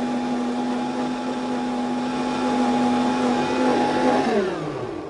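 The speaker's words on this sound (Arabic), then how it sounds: "الخليط بتاعنا بيتضرب تقريبا 30 ثانيه" A blender mixing juice gives a steady motor whine with a strong constant hum, close and loud, then winds down and drops in pitch near the end as it stops.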